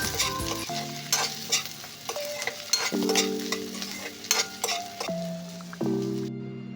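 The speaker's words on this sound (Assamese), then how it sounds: "আদা আৰু নহৰুৰ কেঁচা গোন্ধটো যোৱালৈকে অলপ সময় ভাজি থাকিম।" Onion, garlic and ginger fry in a pan with a steady close sizzle, while a spoon knocks and scrapes the metal in repeated clinks and stirs throughout, with no voices.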